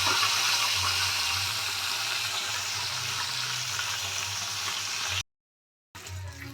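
Parshe fish frying in hot oil in a wok, a continuous loud sizzling hiss that runs steadily, cuts to silence near the end, then briefly resumes.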